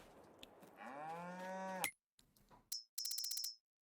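Dairy cattle moo in a farming video game on a cow barn map: one long, drawn-out moo up close, followed by a few short clicks and a quick burst of rapid ticking.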